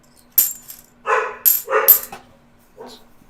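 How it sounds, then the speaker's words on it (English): A pet dog barks in a few sharp, close bursts, with short gaps between yelps and a faint whimper at the end, heard alone with no talking. "Your dog's happy hearing my dog's bark."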